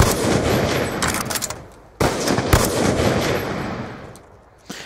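Gunfire in a first-person shooter: loud, close bursts of rapid shots that break off and restart, with a brief mechanical click near the end.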